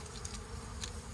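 Honeybees buzzing steadily around an open hive during a summer inspection, a dense close hum with a few brief louder passes of individual bees, no voices.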